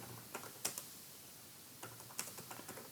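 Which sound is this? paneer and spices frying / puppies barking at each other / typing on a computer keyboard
typing on a computer keyboard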